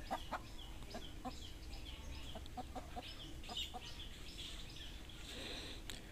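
A few laying hens in a rural backyard coop cluck in scattered short calls, faint and somewhat distant, over a steady outdoor background hiss.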